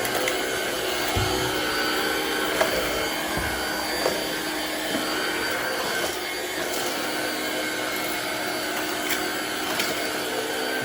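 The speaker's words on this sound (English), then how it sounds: "you'll hear the vacuum go from a flat surface to a carpeted surface" A Black & Decker Powerseries+ cordless stick vacuum whirs steadily at close range as it moves from a flat floor onto carpet, with a few soft bumps and clicks. The motor drone holds even throughout and no one talks.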